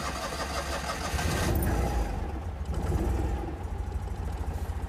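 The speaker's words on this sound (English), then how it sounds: "Give her just a touch of choke." Citroen 2CV engine with a touch of choke cranks, catches and settles into a steady, close, buzzing idle; no voices.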